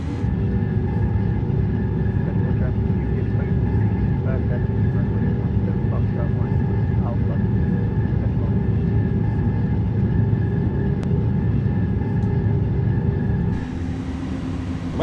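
iniBuilds A300 airliner engines in a flight simulator spool up as power is added, a steady loud droning rumble with tonal whine lines that shifts in pitch near the end, under occasional talk.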